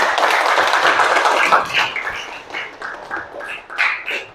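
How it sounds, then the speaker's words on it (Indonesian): A class applauding after the final group presentations, a burst of many hands clapping that thins out into scattered, fading claps. "Boleh tepuk tangan dulu buat kita semua"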